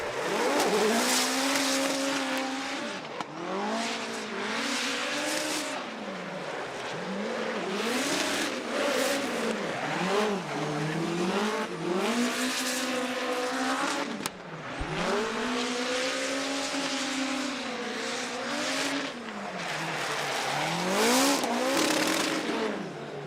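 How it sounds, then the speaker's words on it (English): A four-cylinder turbocharged, nitrous-fed hatchback revs hard and repeatedly, rising and falling in pitch with tire squeal as it drifts at a Formula Drift event, loud and continuous without talk. "let's just listen to this 4-cylinder turbo nitrous powered hot hatchback of Ryan Tuerck."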